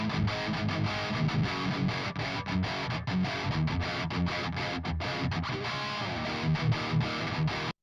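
Distorted electric guitar through an amp, miked with a Royer 121 ribbon blended with an SM57, churning out dense, continuous heavy chords with a dark, thick tone and no voices.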